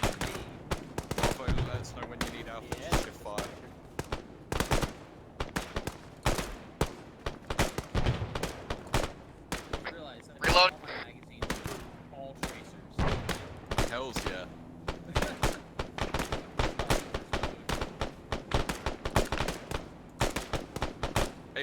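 Gunfire in an Arma military game firefight: rapid bursts of rifle and machine-gun shots crack in dense irregular volleys, some close and loud, some distant, almost nonstop, with radio-style voices talking underneath.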